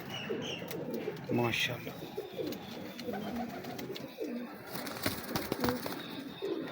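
Purebred pigeons in a loft coo in low, throaty bursts close by, with a few faint chirps and wing flutters, while someone talks over them.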